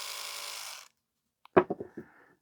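A charged electric toothbrush from a charity-shop e-waste haul buzzes for under a second, then after a short pause gives a few brief pulsing bursts, close and fairly quiet.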